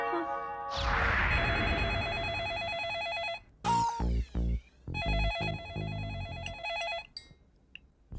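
An electronic phone ringtone plays a bright, repeating melodic pattern, broken by a few short gaps and shifts in tone.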